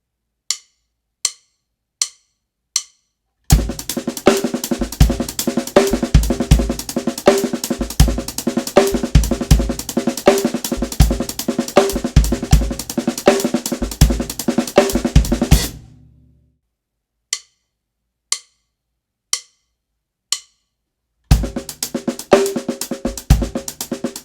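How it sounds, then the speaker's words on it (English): Drum kit groove with 30-second note double strokes and paradiddles, played loud and close as a dense, driving pattern for about twelve seconds. Sharp stick clicks count it in and tick between the drum passages. "That 30-second note groove sounds like this."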